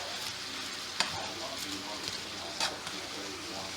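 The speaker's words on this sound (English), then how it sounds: "Mix the seasoning." A spoon stirs smothered cabbage and seasoning in a pot on the stove, making a soft, continuous frying hiss. Two sharper scrapes or knocks against the pot stand out above it.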